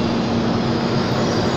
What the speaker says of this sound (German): da fährt noch ein Zug ein. Ein Doppeldecker nämlich.